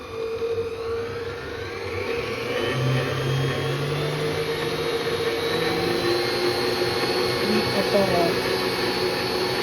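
An electric kitchen mixer runs at medium speed while whipping a mango and passion fruit marshmallow mixture, giving a steady, fairly loud whirring drone that holds through the whole stretch with no talking over it.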